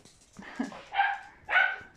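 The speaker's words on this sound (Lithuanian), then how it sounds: "Čia aš šuniukų turiu kaime." Dogs in a village bark in three short, fairly close bursts spaced about half a second apart, with quiet gaps between them and no talk.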